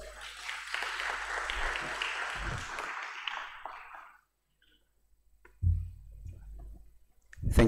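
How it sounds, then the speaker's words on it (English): Audience at a Tanzanian digital transformation conference applauding an opening speaker, a few seconds of moderate clapping that fades out into silence, followed by scattered faint knocks and thumps. "Can we give him a round of applause?"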